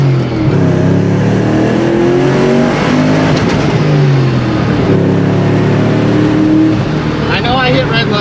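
A procharged Ford Mustang GT engine revs hard toward redline, loud and close, its pitch sweeping up and down in repeated climbs, with someone talking over it at times.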